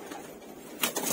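A madrasi pigeon coos once, softly and briefly, near the end of a quiet moment, with no one talking.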